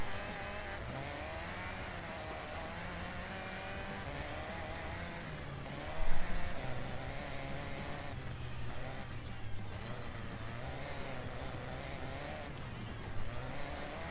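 Racing video game cars with a steady engine drone and shifting pitch, running continuously and fairly loud, with a brief louder burst midway and no talk.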